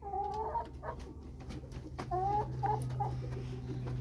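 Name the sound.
chicken clucking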